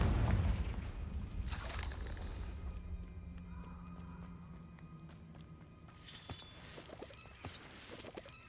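A Confringo spell explosion in Hogwarts Legacy, a booming blast at the start followed by crackling debris and a second burst of fiery noise later, set among game ambience with no speech.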